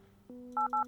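Telephone dialing in the video game Kathy Rain: a steady dial tone is followed by three quick touch-tone beeps in an even rhythm, clear and alone.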